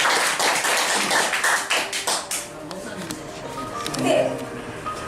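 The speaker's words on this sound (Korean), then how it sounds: "힘차게 박수로 환영합시다." A senior center audience at a well-dying education session claps in a brisk burst of applause welcoming a speaker, fading after a couple of seconds as a voice carries on speaking.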